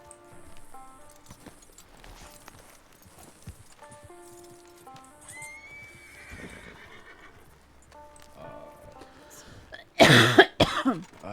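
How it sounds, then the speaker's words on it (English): A video-game horse bolts away from a snake, a loud close whinny and snorting bursting out near the end after a stretch of quieter game sounds and faint hoof clops. "Horse is running away because there's a snake."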